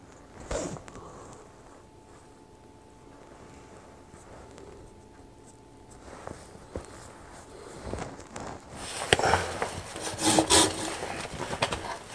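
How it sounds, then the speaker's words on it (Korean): A hand saw with freshly sharpened teeth cuts wood, starting with faint scrapes and scattered knocks before rising into loud, close, rhythmic rasping strokes near the end. No one speaks. "아까보다는 훨씬 더 수월하게 나무가 잘 잘릴 것 같습니다."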